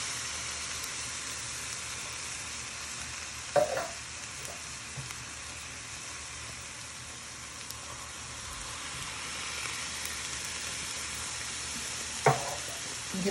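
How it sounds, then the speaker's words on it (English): Tomatoes being stirred into a pan of fried onions and coriander: a steady soft sizzle throughout, with two brief louder scrapes of a spoon, no voices. "And give that a little stir."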